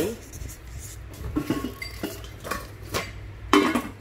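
A thick double-bottomed stainless steel cooking pot handled up close, with scattered metallic clinks and knocks at irregular moments over a low background hum.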